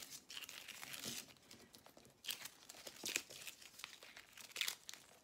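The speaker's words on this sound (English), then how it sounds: "I'm going to take off my masking tape." Masking tape is peeled off a printed piece in quiet, close crinkling tears, several soft ripping bursts coming in uneven spurts.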